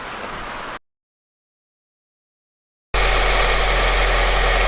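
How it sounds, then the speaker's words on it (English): Honda Civic engine after a cylinder head replacement: a short run of steady engine noise, a gap of silence, then the motor catching and settling into a loud, even idle close to the microphone. "I think it is finally time to start it up."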